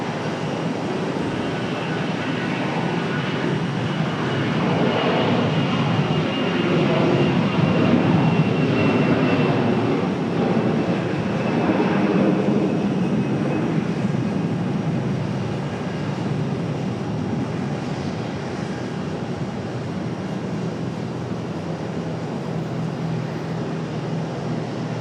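An American Airlines jet departs Charlotte airport, its engine roar swelling and holding steady as a broad rumbling wash that fades only slightly toward the end.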